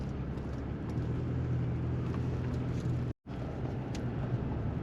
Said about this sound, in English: that was fun passing that logging truck